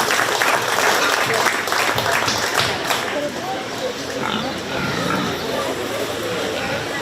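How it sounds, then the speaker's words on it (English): A county fair crowd applauds the exhibitors at a 4-H swine show, a dense, sustained clatter of clapping with pigs grunting and other livestock noise mixed in beneath it. "let's give all these exhibitors in our champion market competition gilt a nice round of applause"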